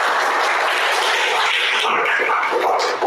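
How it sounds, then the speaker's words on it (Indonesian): A class of vocational engineering students claps for a classmate in a classroom, a loud sustained burst of many hands lasting a few seconds. "Tepuk tangan untuk"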